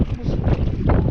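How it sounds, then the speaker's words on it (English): Strong wind gusts buffet the microphone on an open lake during early spring bass fishing from an inflatable kayak, a steady loud roar and rumble with no clear speech. "Super, super windy out here."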